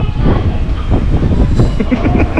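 A subway train runs underground on a Sapporo trip, giving a loud, steady rumbling roar with rhythmic wheel clatter throughout and no clear talk.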